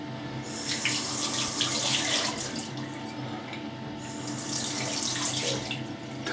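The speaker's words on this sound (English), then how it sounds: "you can just come in, pick them up, dunk them and use them." Shaving brushes being dunked and swished in a sink of water, a steady close splashing and running-water wash with brief surges, no talking.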